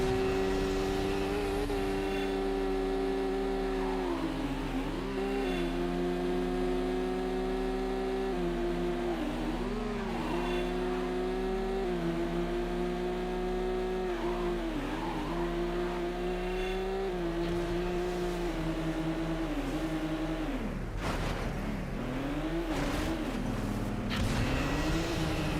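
Engines roar steadily in a Midnight Club II circuit race through Tokyo on PS2, a loud, sustained drone that rises and falls with gear changes, briefly dipping near the end before surging back.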